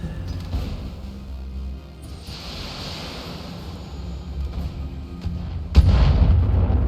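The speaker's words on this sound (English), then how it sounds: "we're about to find out if they've got a whole bunch of LRMs, all long-range weapons" Long-range missile volleys in the BattleTech video game, a continuous rumble of distant launches and impacts building into a heavier, louder burst of explosions near the end.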